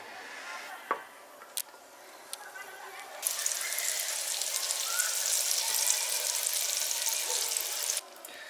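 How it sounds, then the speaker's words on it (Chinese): Potstickers are laid into a hot oiled pan: a few clicks and light knocks come first, then a loud, steady sizzle starts a few seconds in and holds close and bright before cutting off near the end. "下面我们开始煎锅贴，把这个锅贴给它放到锅里边"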